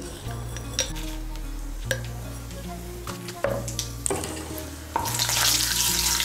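A dried red chili and half a teaspoon of panch phoron hit hot white oil in a pan, sizzling steadily while a spoon stirs and clatters against the metal, the frying swelling louder near the end.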